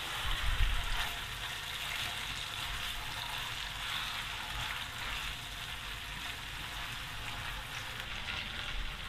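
Beef sizzling in a frying pan with soy, oyster and tomato sauces, a steady close hiss and crackle of frying running continuously, with faint occasional stirring scrapes.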